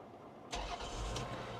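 A 1998 Toyota Harrier 4x4 engine cranks briefly and catches, then settles straight into a steady, close idle after a short silence.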